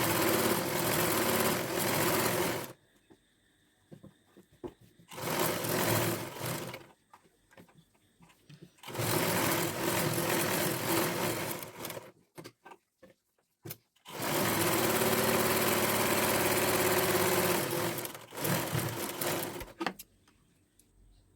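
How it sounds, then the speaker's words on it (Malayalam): A sewing machine stitching a pillow cover, running in several bursts of steady buzzing of a few seconds each, separated by short pauses, loud and close. "അങ്ങനെ ഞാനിവിടെ സ്റ്റിച്ച് ചെയ്ത് കഴിഞ്ഞു."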